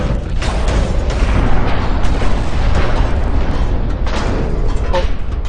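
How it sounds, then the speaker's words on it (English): Shells bounce off ship armor during a naval battle video game, heard as a loud, dense, continuous rumble of booming gunfire and impacts with no clear gaps. "you can hear most of the sound, most of the shots that are hitting us are bouncing"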